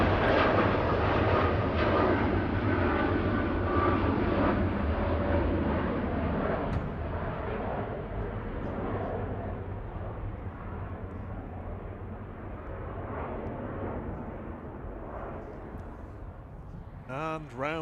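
An Airbus A380 rolls down runway 23L at Manchester Airport at night, its jet engines a loud, broad roar that slowly recedes and fades over about fifteen seconds as the aircraft departs.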